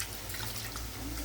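Water poured into a pot of rice for vegetable fried rice, a steady close splashing and trickle running unbroken and fairly quiet throughout, with no voices.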